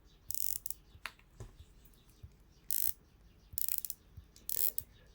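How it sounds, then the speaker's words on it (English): The ratcheting bezel of a Baltany Submariner-style dive watch is turned in four short bursts of quick, soft, close-up clicks, with quiet gaps between them. "Bezel turns really nicely. They're very soft click."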